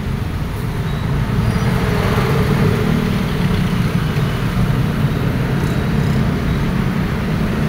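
A bus idles steadily nearby at a Philippine roadside terminal among provincial buses and jeepneys, a continuous low diesel rumble holding level throughout, with faint traffic in the background.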